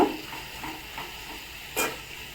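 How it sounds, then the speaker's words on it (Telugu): Onions sauté in a pan for semiya upma while being stirred, giving soft scraping strokes over a faint, steady sizzle, with a sharper clank near the end. "అండ్ ఆనియన్ కలర్ చేంజ్ అవుతుంది ఇంకొంచెం మగ్గించుకున్నాము"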